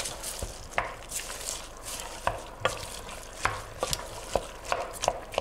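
Chopped vegetables, parsley and spearmint for a Greek gemista stuffing are tossed and stirred in a bowl, giving soft irregular scraping and clinking taps, close and fairly quiet with no talk.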